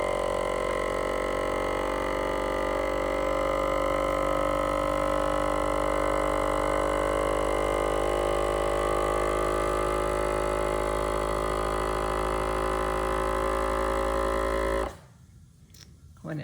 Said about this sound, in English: And it begins to suck the air out of the jar that you are trying to seal.